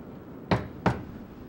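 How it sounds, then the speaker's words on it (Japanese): Knock on a door in the horror game Kamaitachi no Yoru 2: two sharp, distinct raps about a third of a second apart over a quiet, faintly windy background. "ノックの音がした。"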